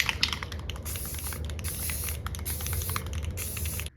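Clear coat spray hissing steadily and close onto a homemade fishing lure for about four seconds, with a few pulsing bursts before it stops abruptly.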